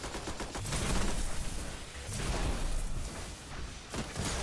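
Shotgun blasts in a first-person shooter game, heavy and loud in rapid succession amid dense game action noise, with no talking.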